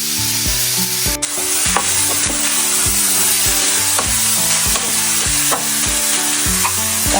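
Ridge gourd and potato fry in tempered oil with a loud, continuous sizzle, while a spatula scrapes and clacks against the pan in a steady rhythm throughout.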